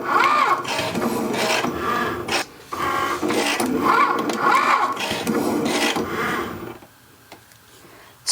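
A Cricut cutting machine fitted with a scorch marker for wood burning runs with a steady mechanical whir, pausing briefly, then falls quiet near the end; nobody speaks.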